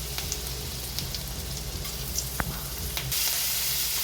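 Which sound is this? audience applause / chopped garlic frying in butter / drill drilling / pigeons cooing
chopped garlic frying in butter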